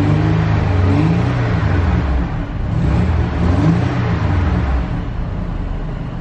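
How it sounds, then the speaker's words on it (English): A 2006 Honda Ridgeline with high mileage revs up smoothly and settles back, its engine note rising and falling steadily, loud and close with no talking. "Revs up nice and smooth"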